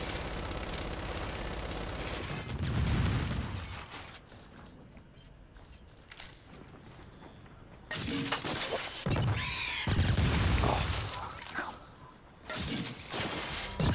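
Gunfire in Gears 5 game combat, with loud sustained bursts and crashing impacts broken by a quieter stretch of scattered metallic clanks and creaks, then renewed heavy firing.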